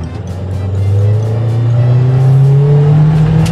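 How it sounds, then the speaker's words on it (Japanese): A Toyota TownAce-based camper with a camper shell pulls away from a traffic light, its engine droning loud and close as the revs climb steadily over a few seconds. "信号加速タイム計測します"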